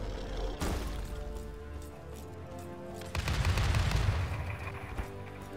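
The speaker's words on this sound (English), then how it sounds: "Are you trying to shoot me, Riley?" Gunfire in the video game Paladins, a sharp shot at the start followed by a rapid, dense volley of game weapon fire from about three seconds, over a background of game music.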